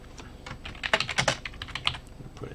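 Quick, light keystrokes on a computer keyboard in short irregular bursts, close and fairly quiet, with no voices.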